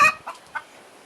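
Backyard hens cluck while eggs are collected from their nest: a short series of three close clucks, the first loudest, then quieter calls trailing off.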